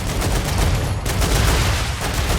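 Sustained gunfire from guns in the sci-fi video game StarRupture, a chaotic, loud stream of rapid shots with heavy recoil punch, continuous throughout with a brief dip midway.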